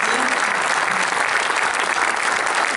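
An audience at a New Humanism Tour opening event in Formia gives steady, loud applause as provincial officials are called up to greet everyone. Dense clapping from many hands holds evenly throughout with no talk over it.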